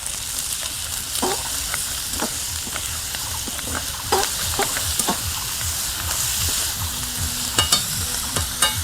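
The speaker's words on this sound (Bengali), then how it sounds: "এখন একটু ভালো করে নেড়ে চেড়ে দেবো" Vegetables fry in a pan in a village kitchen under a constant loud sizzle, while repeated scraping and clanking stir strokes come through up close.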